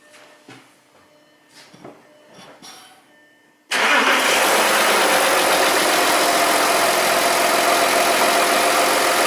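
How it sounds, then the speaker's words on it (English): Volkswagen Touareg engine starting after a fuel filter replacement: a few quiet clicks and movements, then the engine catches abruptly and settles into a loud, steady idle. "So all that's left is just to start the car."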